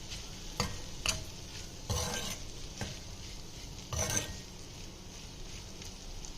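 Bottle gourd curry with onion and coriander leaves is stirred in a pan, a soft continuous sizzle with several brief scrapes and knocks of the spoon, fairly quiet and with no voices.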